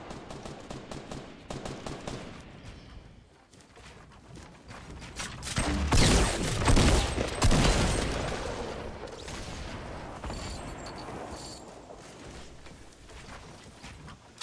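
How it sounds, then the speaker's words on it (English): Gunfire in Fortnite Battle Royale, where a new hunting rifle sniper is in play: rapid rattling bursts of shots, some close and loud around a big swell mid-way, others fainter and more distant, with mechanical clicks between. "There's more shots east."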